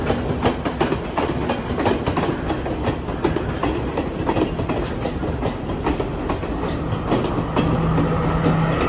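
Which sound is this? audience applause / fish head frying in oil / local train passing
local train passing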